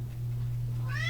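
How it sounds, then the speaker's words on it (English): A cat meows once, close and clear, a short rising cry near the end of a brief indoor moment with a steady low hum underneath. "Come here, kitty. Come on. I'll let you out in a minute."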